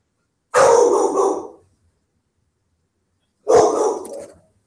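A single dog gives two loud, close barks about three seconds apart, each bark standing alone against silence.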